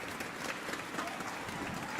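An esports arena crowd at a League of Legends EU LCS Summer 2016 match between Fnatic and Roccat applauds in a continuous, dense wash of clapping and cheering, with a caster's voice faintly underneath.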